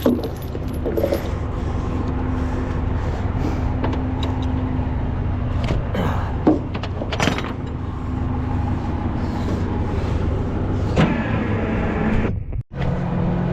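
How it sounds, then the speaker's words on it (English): A truck-mounted winch motor runs in a steady, loud mechanical drone with a constant whine. A few clanks and rattles sound before it cuts out abruptly near the end, and no one speaks. "Hopefully this winch works the way it should."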